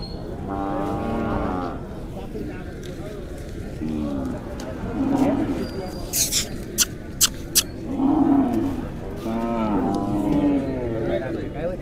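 Bulls at the Pandharpur cattle market, a Kartiki Ekadashi fair for Khillar and Mysore breeds, give a few low moos amid busy market noise and people talking, with some sharp knocks or clacks in the middle.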